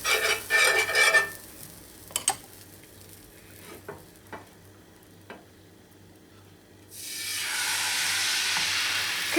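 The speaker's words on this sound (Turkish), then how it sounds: "Krepimizi yayıyoruz iyice. Tavaya yayıyoruz krepimizi." Crepe batter is spread in a buttered pan. A few light utensil clicks and taps come first, then a loud, steady sizzle rises suddenly and holds to the end, with no talking.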